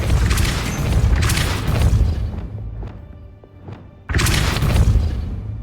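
The Depulso spell in the Hogwarts Legacy video game goes off as deep booming thuds with crashing bursts, two heavy loud blasts separated by a quieter gap holding a few sharp magical pings.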